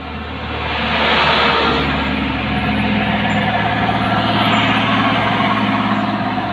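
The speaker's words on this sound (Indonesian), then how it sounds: "Truk paku bumi nggak kuat naik." A heavy pile-driver truck engine drones and labors steadily, a loud continuous low rumble as it struggles to climb a steep mountain road.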